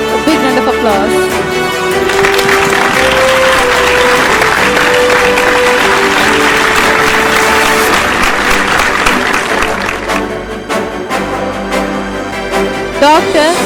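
Loud, sustained applause from an audience at a scientific award ceremony, broad dense clapping with music tones beneath, holding steady for about ten seconds before thinning out.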